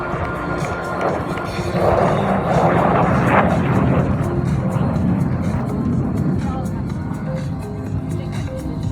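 Red Arrows jets at an air display give a steady, loud broadband roar that holds throughout, with speech partly over it.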